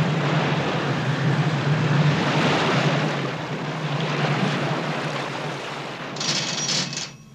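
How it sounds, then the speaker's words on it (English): Outboard motors and the research ship Calypso's reversed propellers churning water at sea, a broad continuous rumble and wash with wind and surf, easing toward the end. "The combined effort of the thrusting outboards above, the pull on the anchor astern, and the thrust from Calypso's reversed propellers does the job."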